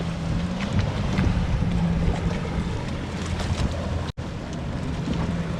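Wind buffeting and water rushing past a moving boat, steady and loud, with a brief dropout near the end before the same noise resumes.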